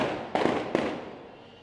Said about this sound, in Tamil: காங்கிரஸ் தொண்டர்கள் பட்டாசு வெடித்து உற்சாகமாக கொண்டாடினர்